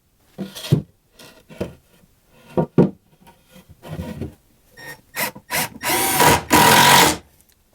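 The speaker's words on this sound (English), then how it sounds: "I really like this little Milwaukee drill I got." Short bursts of a Milwaukee cordless drill whirring and clicking as it drives screws, growing into longer, louder runs toward the end, with faint scraping between.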